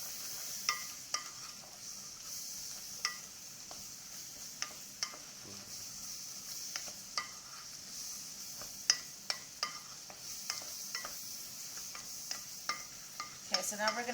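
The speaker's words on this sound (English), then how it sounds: "so now we're going to have to saute this for about 3 minutes" Carrots, celery and onion for an espagnole brown sauce sauté in a pan. A soft continuous sizzle runs under frequent, regular spoon scrapes and taps against the pan.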